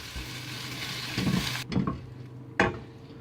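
Spinach wilting in a hot pan, a soft steady sizzle with a few stirring scrapes and light clanks of utensil against the pan near the end.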